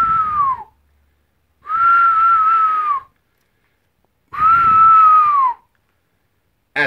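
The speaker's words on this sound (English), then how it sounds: "Wait, I'm going to whistle." A person whistles three long sustained notes, each with a slight pitch dip at the end, loud and close, separated by short silent pauses.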